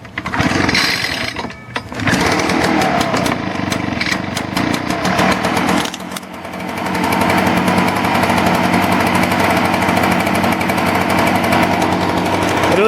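An Echo PB-500T backpack blower engine starts with a few loud pulls and sputters, then settles into a steady, loud, continuous drone that runs a little rough from a cold start.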